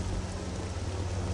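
Acid rain in the video game Star Wars Jedi Academy falls as a steady, dense, hissing downpour, loud and continuous, with no voices over it.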